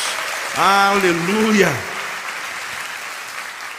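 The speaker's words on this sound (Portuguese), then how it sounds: "dá uma salva de palmas ao Senhor" Church congregation applauding in a steady wash of clapping, with a single voice calling out loudly over the start before the applause carries on alone and fades slightly.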